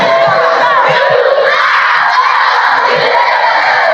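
Schoolchildren near a helipad cheer and shout together as a vice president arrives in Oraifite, Anambra State, a dense, loud, sustained crowd roar that holds steady throughout.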